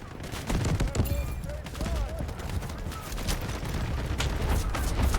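A mounted turret gun in the video game Delta Force Hawk Ops fires in a continuous heavy rattle throughout, while someone talks over it.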